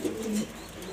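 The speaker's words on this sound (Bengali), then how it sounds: "এই যে দুইটা কবুতর" Pigeons coo in low, throaty murmurs, a pair of birds close by with soft rolling calls across the whole second, no talk over them.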